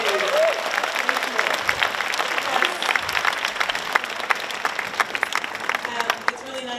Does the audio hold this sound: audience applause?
yes